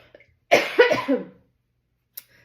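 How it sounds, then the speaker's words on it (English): A single close, hoarse cough burst with a few rough follow-up hacks, then quiet apart from a faint click. "I've got a little bit of the sniffles, a little bit of a cough"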